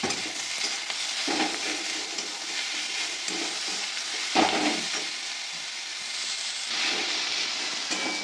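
Tomatoes with salt frying in a pan give a steady, loud sizzle and hiss with occasional stirring scrapes and a brief louder crackle partway through, no talking.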